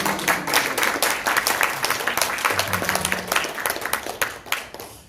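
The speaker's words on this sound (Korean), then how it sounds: "이렇게 박수 쳐주셔서 감사하지만" An audience claps warmly after a talk by a Korean news anchor, a lively run of overlapping hand claps that stays fairly loud and steady, with a few voices murmuring underneath.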